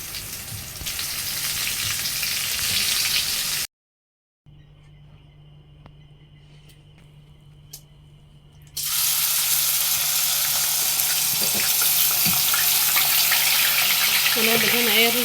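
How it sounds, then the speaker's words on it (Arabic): Fish frying in hot oil, loud steady sizzling that breaks off for a few seconds of quieter kitchen noise with a faint hum, then returns at full strength. "هنحط بقى السمك ونحمره"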